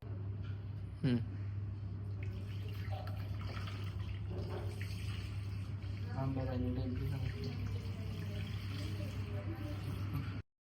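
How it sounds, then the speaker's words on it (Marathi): Water pours and splashes steadily throughout over an idol of the goddess Ambabai during a ritual bathing, with a voice speaking over the flow. "पाण्यामध्ये टाकायचं आहे आणि त्याचा अभिषेक द्यायचा आहे"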